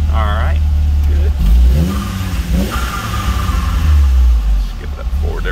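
A Volvo engine revs hard through a second-gear pull, a loud, low, building roar that rises and falls across several seconds, with voices speaking over it.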